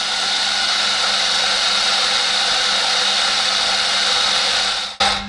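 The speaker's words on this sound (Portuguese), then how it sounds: "A gente coloca aqui na máquina, na grinder, que eu expliquei para vocês. Ela vai moer" An electric coffee grinder grinding coffee beans in a busy café, giving a steady, loud, high-pitched whir that runs unbroken for about five seconds, then cuts off abruptly with a brief clunk.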